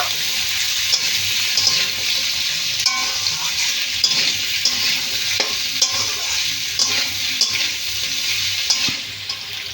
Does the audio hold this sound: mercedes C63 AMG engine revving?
no